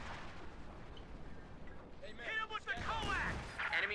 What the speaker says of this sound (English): And now there's even a Scott barrage on the Schwer.